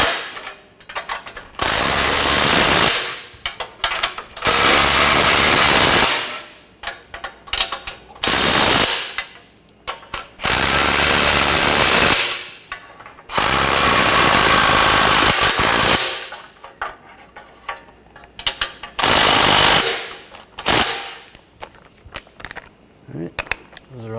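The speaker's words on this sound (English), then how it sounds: "And I'm going to use some new nuts. Get those started. Now we'll tighten those down." Power tool tightening new nuts on the transfer case of a 2009-2013 BMW 328i xDrive with the 3.0L inline-six, heard as several loud rattling impact bursts of a second or two each, separated by short pauses.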